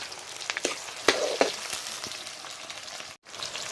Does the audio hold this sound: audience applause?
no